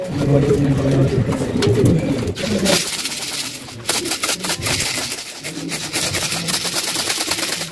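Pigeons cooing and fluttering at a loft during club training preparation, with repeated soft coos early on giving way to busier rustling and wing flaps over steady background noise.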